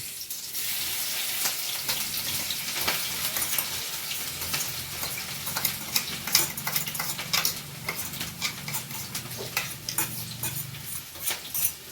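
Crushed garlic, ginger and green chili tipped into hot oil with cumin for a village-style tempering, giving a loud, steady close sizzle with crackling pops throughout and occasional stirring clicks, no talking.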